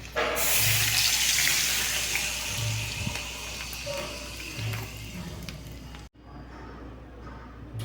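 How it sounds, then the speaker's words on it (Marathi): Water gushes loudly into a hot pan of tempered spices with a hissing splash, then settles into a softer simmer before a brief cutoff. "आता पाणी सोडूया"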